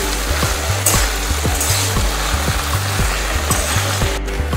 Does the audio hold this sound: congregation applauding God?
no